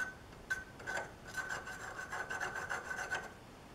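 A file rasps against a small bit at a bench pin, in a quiet run of short, uneven rubbing strokes close by with no one talking.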